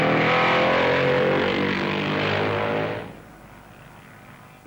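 A vintage racing motorcycle at the Isle of Man TT, the Bob McIntyre era, roars close and loud, then drops away sharply as it brakes and shifts down, leaving a faint distant engine drone.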